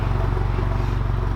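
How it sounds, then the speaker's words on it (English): Tuned 350bhp Golf GTI idling through a straight-through exhaust, a steady deep burbling rumble with fast regular pulses, close and continuous for a brief moment. "Well, actually, it's idling now,"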